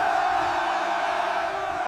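A large crowd roaring and cheering together after completing a stone wall, a dense sustained wall of voices, loud and close for a couple of seconds.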